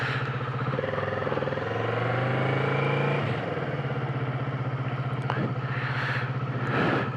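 Kawasaki Z650 motorcycle riding off, a steady mid-pitched engine drone with a gear change partway through, fairly loud and close, without talk.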